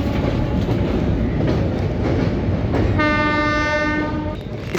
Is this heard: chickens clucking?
no